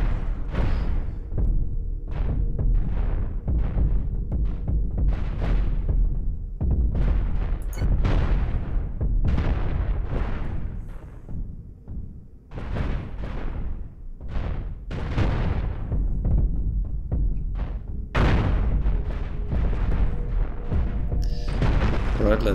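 Spaceship weapons in Cosmoteer pound an armored ship with rapid, repeated booming shots and explosions, closely spaced and loud, continuing with brief gaps across the whole stretch.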